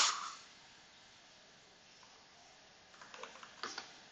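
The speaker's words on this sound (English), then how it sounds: "You can also then, from the menu, type profile load" A short run of keystrokes on a computer keyboard types a command into the LLxprt Code terminal, a few quick taps near the end after a faint opening click, with no talking.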